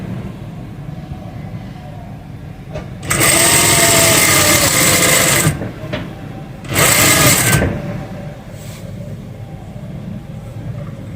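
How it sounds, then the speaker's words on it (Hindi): A sewing machine stitches frock fabric in two loud, close bursts, the first running about two seconds and the second about one second. Quiet room tone and faint handling noises fill the gaps between them. "10 इंच का पीस है और इसको अब हम सिलाई करेंगे।"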